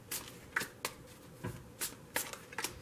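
Tarot cards are shuffled briefly by hand: a handful of sharp, crisp riffling bursts spaced irregularly, close and alone with no talking.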